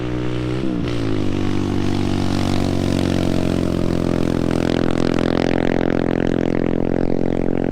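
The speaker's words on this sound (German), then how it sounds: "Die Emiratis sind hier mega unterwegs mit allem, was ein Motor hat und fahren kann." Motor vehicles on a beach in Dubai, with a nearby engine revving up and then holding a loud, steady droning roar, suggesting machines driving back and forth.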